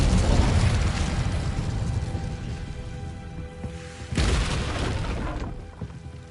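Incendio fire spell fired in the Hogwarts Legacy video game, heard as a loud roaring blast at the start, then a second whooshing burst of flame a few seconds later over rumbling game ambience.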